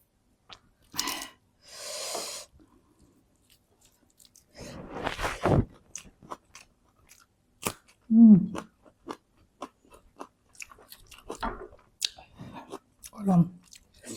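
Someone chews food at midnight, with close, intermittent wet chewing and biting sounds separated by quiet pauses and a few breaths.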